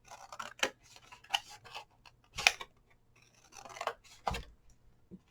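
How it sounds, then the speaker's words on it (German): Scissors snip paper into small flaps for a triangular-lid paper box, a series of short, crisp cuts spaced irregularly, close and quiet with no voices. "Dann einmal rundrum bei 2 gegenüberliegenden Seiten Flügelchen geschnitten"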